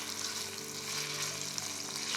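Potatoes cooking gently in a pan over low heat, a soft steady sizzle and crackle with a faint hum, quiet and close with no talk.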